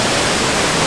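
Soffia waterfall near Sospirolo roaring in a steady, loud, dense rush of falling water, close by and unbroken, with no voices.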